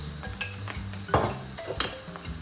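Minced meat and peppers sautéing with salt, cumin, chili powder and tomato-pepper paste for a yalancı mantı topping, with a spoon scraping and clinking against the pan and a soft sizzle underneath, close and steady.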